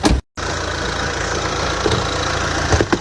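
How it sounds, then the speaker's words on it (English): The engine of a Mercedes A-Class unserviced for six years idles steadily while warming up, a continuous close mechanical hum with faint ticking, briefly interrupted by a short gap. "Engine's been warming up"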